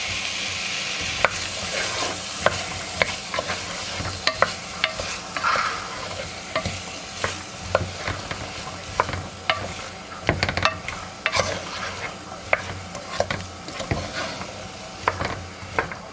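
Garlic cooks in a pot for potato and ham soup, a soft background sizzle punctuated by repeated scraping and clacking of a spoon stirring against the pot.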